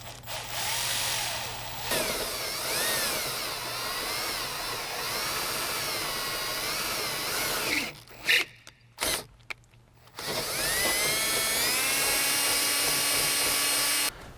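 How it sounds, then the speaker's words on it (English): Power drill boring a hole through the body seam of a Sprinter van, a steady loud whirring drone that runs on and off, with brief pauses and bursts before resuming. "Doesn't matter where along you drill the hole, but it needs to be on this seam right here."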